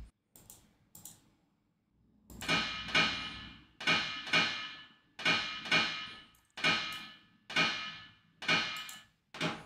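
A sharp, metallic snare drum sample made in FL Studio hits at a slow, regular pace, each strike ringing briefly before fading, loud and close with no voices.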